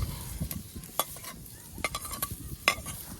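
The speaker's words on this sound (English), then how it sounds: "I'm just going to cook up these onions" Onions frying in a cast iron pan over a hot campfire, a low crackling sizzle under repeated sharp scrapes and knocks of a utensil stirring, close up with no talking.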